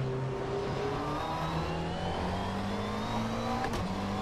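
A GT3 race car on flat-spotted tyres in rFactor 2, its engine droning and shifting pitch steadily with a rhythmic thump from the damaged tyres, heard up close from onboard.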